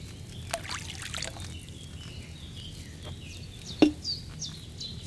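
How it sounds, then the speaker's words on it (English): Wine is poured into a cauldron in Kingdom Come Deliverance 2, a soft liquid trickle and splash among faint ambient chirps, with one sharp clunk partway through. "First, you have to pour the right base into the cauldron."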